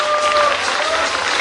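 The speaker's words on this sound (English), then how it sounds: "A big round of applause." A crowd applauding at an event in Shillong, a brief burst of dense clapping with a faint sustained tone under it.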